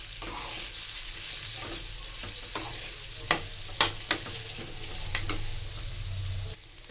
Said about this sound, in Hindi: अब हम इसमें डालेंगे अदरक और हरी मिर्च और सबको हम अच्छे से मिक्स कर लेंगे